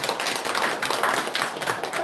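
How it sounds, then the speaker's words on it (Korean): A congregation at a Sunday dharma service in a Buddhist temple gives a short burst of hand clapping, a dense, lively patter of many hands at moderate volume with no speech over it. "부처님한테 박수 한번 보내주세요."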